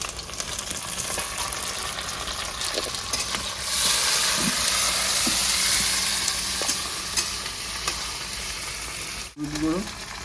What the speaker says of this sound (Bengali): এবার দিয়ে দেবো এখানে কেটে রাখা টমেটো।